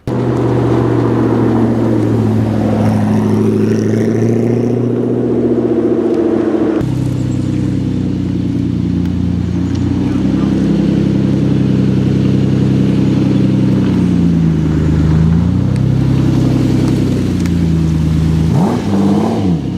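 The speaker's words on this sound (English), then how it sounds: "there are cars driving around as I'm talking right now" Cars drive around a side street during Monterey Car Week, their engines loud and continuous and close by, with revs rising and falling as the vehicles pass.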